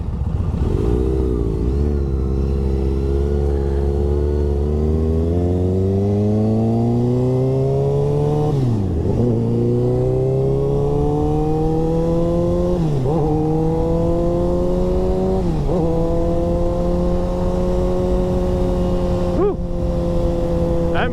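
A 600 sport bike with an aftermarket exhaust doing rolling burnouts in the rain, the engine revving hard and climbing through the gears in repeated sweeping pulls, loud and close throughout.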